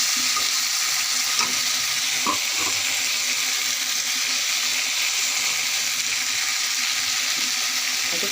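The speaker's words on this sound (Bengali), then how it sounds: "ভালো করে কষিয়ে নিয়েছি, এর মধ্যে আমি এখন মাছগুলো দিয়ে দেব।" Pieces of catla fish go into spice paste frying in a pan, giving a loud, steady hiss and sizzle with a few small crackles and no talking.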